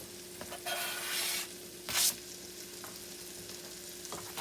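Sliced onions and minced garlic fry in a pan for beef stroganoff, a steady close sizzle with two louder bursts as the pan is stirred or shaken, and no voices.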